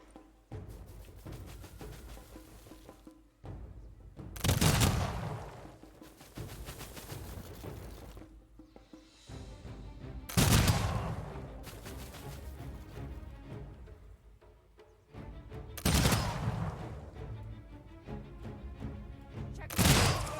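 Massed musket volleys in the strategy game Humankind, several sharp booming bursts spaced a few seconds apart over quieter battle ambience, fairly faint overall, with commands shouted between volleys.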